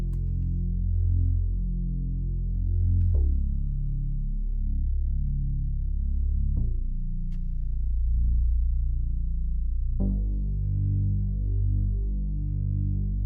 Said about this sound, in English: This time we got the bass cam sub bass preset, and I've just got that following the root notes of the chords.